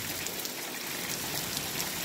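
Heavy rain pours down outdoors near a parked car, a dense, even hiss of falling water with steady patter, loud and continuous with no voices.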